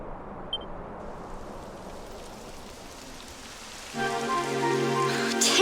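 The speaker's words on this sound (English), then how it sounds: "It would have to go and start raining, wouldn't it?" Rain in the video game Dragon Quest XI begins as a steady soft hiss and swells noticeably louder near the end, with a faint musical hum joining underneath.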